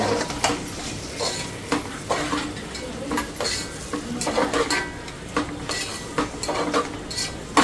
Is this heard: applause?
no